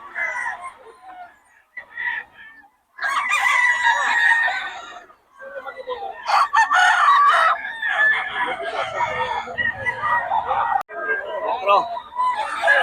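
Roosters crow and cluck repeatedly at the Bocaue tiangge market, with overlapping calls close by and voices talking in the background.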